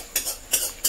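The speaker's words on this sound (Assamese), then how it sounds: "এতিয়া কাটি আছে আলু" Potatoes cut with a knife: three crisp, evenly spaced chopping strokes, close and clear with nothing else around them.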